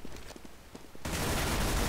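Gunfire in the video game CS:GO: a few scattered shots at first, then a dense, loud continuous burst of rapid fire filling the second half.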